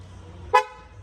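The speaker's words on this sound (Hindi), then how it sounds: "इसका मैं हॉर्न बजा सकता हूँ कहीं से भी" A single short Mercedes G-Wagon horn toot, triggered remotely from a phone, fairly loud and clear, rising out of a low, quiet background hum.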